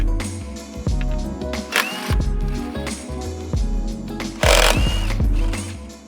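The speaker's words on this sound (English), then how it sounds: "So you're gonna wanna remove a couple of the 12 millimeters first." A power tool removing 12 mm bolts from the top mount intercooler of a 2022 Subaru WRX, heard as loud, close, repeated rattling whirs with bursts of impact buzzing.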